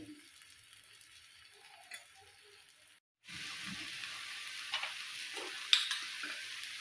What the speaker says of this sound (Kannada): ಈಗ ಇದನ್ನು ಫ್ರೈ ಹಾಕ್ತೀನಿ